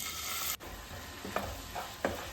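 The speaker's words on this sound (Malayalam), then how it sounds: "മുളക് പൊടി, മഞ്ഞൾപ്പൊടി എന്നിവ ചേർത്ത് വീണ്ടും വഴറ്റിയെടുക്കാം." Onion, ginger garlic paste, chili powder and turmeric sizzle in a pan for a tuna fish curry, a soft steady frying hiss broken by a sharp cut and then three quiet stirring scrapes, with no talking.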